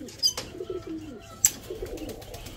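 Pigeons coo softly in low, rolling phrases, with a couple of sharp clicks and faint chirps scattered around them.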